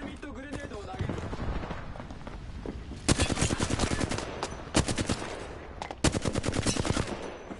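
Automatic gunfire in a video game shooter: dense rapid bursts that grow louder midway, come in several separate volleys with short gaps, and run under game voice lines.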